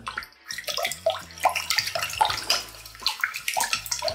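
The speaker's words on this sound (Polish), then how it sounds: "Całość dodajemy do zimnej wody, mieszamy." Curing salt being stirred into about 400 ml of cold water to make a brine, with a close, continuous watery sloshing and clinking that swells and dips throughout, no talking.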